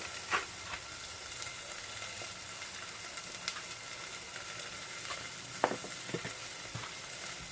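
Onions frying in a pan as part of cooking steak with creamy corn risotto, heard as a faint, steady sizzle with a few soft clicks and stirring knocks.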